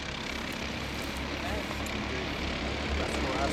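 Several go-karts racing together in the Iron Man event at Go Pro Motorplex, a steady continuous engine drone that stays loud throughout with a faint voice underneath.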